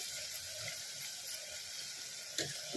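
Water pours steadily into a cooking pot holding val beans and chopped potato for a curry, a continuous soft splashing rush with a few brief clinks, and no voices over it.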